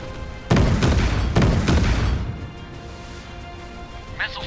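Naval gunfire and explosions in the mobile game Warships Mobile: two or three heavy booming blasts with rumbling decay in the first two seconds, then a quieter stretch of lingering rumble and a faint voice near the end.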